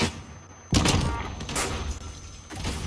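Desert Eagle pistol shots in the Modern Warfare video game ring out as a few sharp, loud cracks spaced apart, each with a short tail, over quiet game ambience.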